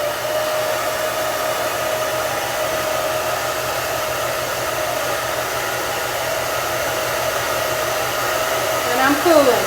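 A hair dryer blows steadily on its cool shot setting, a constant close whooshing hum for almost ten seconds with a slight change in tone near the end.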